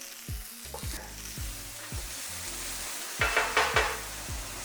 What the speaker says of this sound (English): get it on our pan, saute them till they're golden caramelized